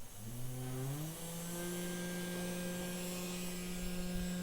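Aftermarket spindle on a 3018 CNC router spins up from a rising whine to a steady, even hum that holds constant and fairly close, with no other sounds.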